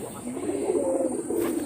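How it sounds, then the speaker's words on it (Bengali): Pigeons perched in a neem tree coo in a soft, low, repeated call, with a faint voice in the background. "এই দেখো অনেকগুলো কবুতর আছে, অনেকগুলো। এই যে নিম গাছের এখানেও বসে থাকে"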